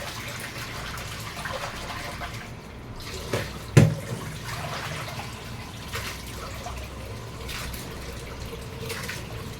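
Tap water runs steadily in the background while fish are washed, a continuous gush with a brief clatter partway through.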